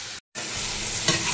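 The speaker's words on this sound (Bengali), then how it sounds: "এবার চর্বি, মশলা, আলু ভালো করে কষিয়ে নিচ্ছি।" Mutton fat, spices and potato sizzle and fry in a pan while being stirred, a loud continuous hiss broken by a short silent gap and a scrape of the spoon.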